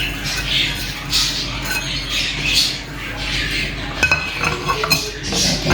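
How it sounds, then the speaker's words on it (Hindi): Marinade ingredients are stirred into cooked beef in a pot, with loud, close squelching swirls and scrapes in a repeating rhythm and a few clinks of the spoon against the rim. "इसको अच्छा सा मिक्स कर देंगे।"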